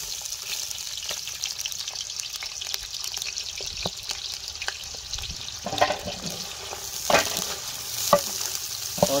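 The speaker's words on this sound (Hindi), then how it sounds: "और प्याज को सुनहरा होने तक भून लेंगे।" Onions fry in cooking oil in a deep pot, giving a steady close sizzle with scattered sharp crackles and pops that grow a little busier toward the end.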